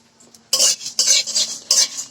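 Panch phoron whole spices go into a hot wok of oil for a sweet-sour-spicy mango pickle, with three sharp bursts of stirring and scraping, utensil against metal, and a faint sizzle between them, no talk.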